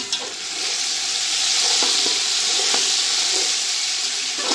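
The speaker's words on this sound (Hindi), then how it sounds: "तकरीबन 3 से 4 मिनट सिर्फ हमने इनको भूनना है" Chicken fries in a pot for yakhni pulao with a loud, even sizzle and steamy hiss, a few soft stirring scrapes popping up across the short stretch.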